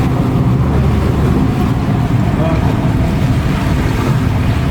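Houseboat cruising on the Saar river, a constant engine drone mixed with water rush and wind buffeting the microphone, steady and loud throughout.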